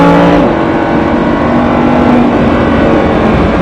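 A Lamborghini on the Mas du Clos circuit in Aubusson, Creuse, is driven at full throttle in fourth gear. The engine roars loud and close throughout, with a brief pitch shift early on, then holds a steady, strained drone.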